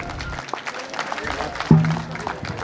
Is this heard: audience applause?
yes